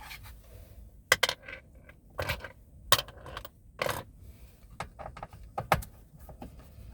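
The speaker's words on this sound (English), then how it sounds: "so all I'm going to do is just put them in the other cup holder so they're not in the same one." Small metal stereo screws from a Smart 453 dashboard dropping into a car cup holder, a few sharp clinks and rattles heard close up with no talk.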